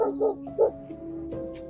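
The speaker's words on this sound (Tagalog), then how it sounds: "Ang laki ng aso." A big dog barks three times in quick close succession, then lets out a higher whining yelp, heard at night outdoors with a faint steady hum underneath.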